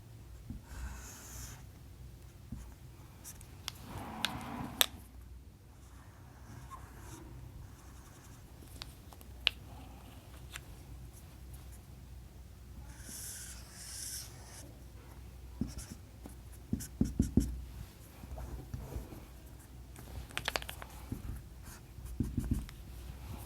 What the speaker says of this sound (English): First, let me draw the mechanism.